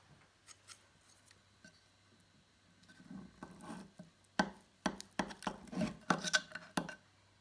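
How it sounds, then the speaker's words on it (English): A knife slicing through a homemade French meat terrine, heard as a run of close, crisp cutting strokes and scrapes that grow denser and louder toward the end, with no talking. "So I'm gonna cut a slice."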